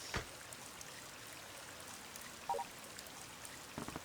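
Rain falls in the video game Sonic Azure Swallowtail as a steady, faint hiss with a few scattered drip-like ticks and no voices.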